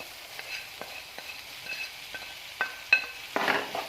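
Chicken and chopped capsicum being stir-fried in a pan, a soft steady sizzle broken by clicking spatula strikes and a louder scrape near the end, fairly close and moderate.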